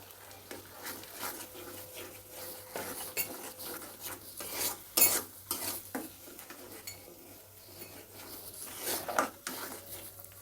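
Ground spices, coriander and cumin powder, being sautéed over medium heat for a potato and katla fish curry, with irregular scraping and rasping stirs against the pan under a low frying hiss.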